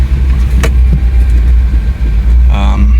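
A 1977 Honda Civic CVCC wagon engine idles on choke in the first detent, a loud, close, steady low rumble that holds even throughout, with faint clicks over it.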